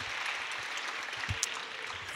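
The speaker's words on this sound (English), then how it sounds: "Give them a round of applause." Light applause from a seated audience at a talk or lecture event, a steady broadband patter of clapping at moderate distance, fairly quiet and even throughout with no voices over it.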